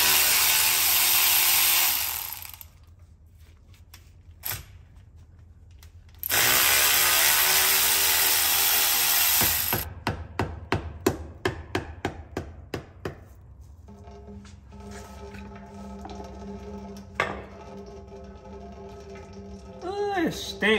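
Bolts come off the rear differential cover of a GM 8.6 rear axle, worked with a 13 mm socket on a power tool. Long loud bursts of the tool whirring alternate with quick rattling ratchet clicks, then softer metallic tinkling.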